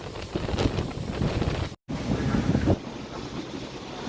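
Strong wind buffets the microphone on the Rangsit station train platform, a steady loud roar with gusts, cut by a brief dropout partway through.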